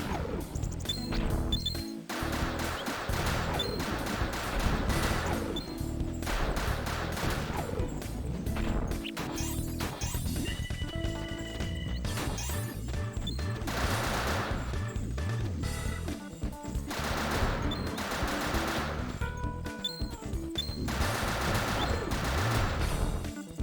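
Rapid bursts of gunfire and crashing impacts from the video game Final Fantasy X-2, dense repeated shots layered over game music and effects, loud and continuous with brief pauses.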